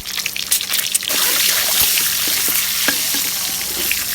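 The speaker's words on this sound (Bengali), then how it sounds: "আমি এখন ডিমটা দিয়ে দিচ্ছি ডিমটা আমি ভালোভাবে ভেজে নিব" An egg goes into hot oil, alongside salt and turmeric: a sharp crackle at first, then a close, even sizzle with light spatters, no voices.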